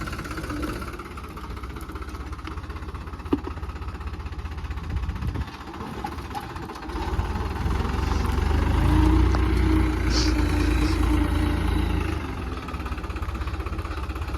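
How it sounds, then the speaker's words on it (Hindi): A tractor engine idles steadily with a low, rumbling drone that swells slightly louder midway, with faint background noise and no talking. "भैया ने ट्रैक्टर स्टार्ट कर लिया भाई"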